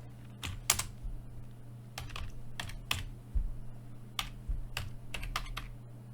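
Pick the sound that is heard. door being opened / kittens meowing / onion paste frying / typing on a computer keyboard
typing on a computer keyboard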